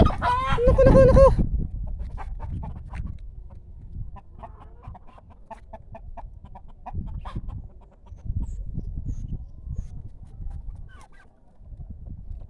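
Chickens at a farm that also keeps turkeys: a loud, harmonic fowl call opens, then faint scattered clucks over low rustling and background rumble.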